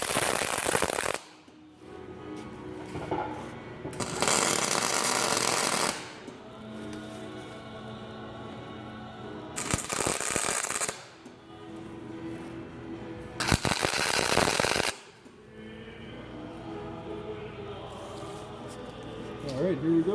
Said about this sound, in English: just gonna do a couple tacks first.